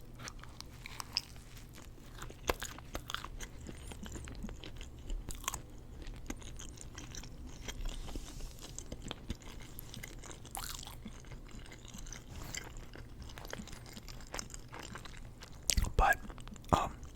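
Soft, close chewing and crunching of a Wendy's breakfast sausage sandwich, quiet bites and mouth sounds scattered through a low background, with a few louder crunches near the end.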